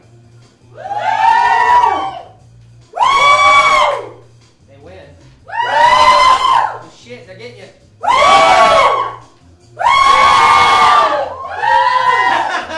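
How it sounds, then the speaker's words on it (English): A live improv comedy audience in a bar yells, cheers and screams in six loud, sustained bursts of a few seconds each, separated by short pauses, with voices shouting individual words within the din. "I want you to make as much noise as possible"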